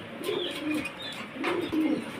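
Fancy pigeons in cages coo in soft, low, rolling calls close by, several phrases overlapping, with faint chirps in the background.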